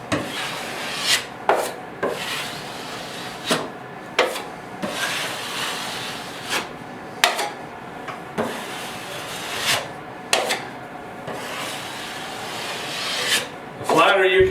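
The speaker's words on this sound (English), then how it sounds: "The knife is bending quite a bit. Because you want to get this mud off." Taping knife scrapes drywall joint compound along a basement bedroom joint in repeated short strokes, each a sharp rasping swipe, with quieter smoothing and handling sounds in between.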